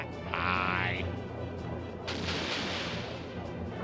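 Moonstone Cannon firing in a video game: a muffled heavy boom with a brief ringing tone, then a second burst of noisy blast, heard over a low game rumble.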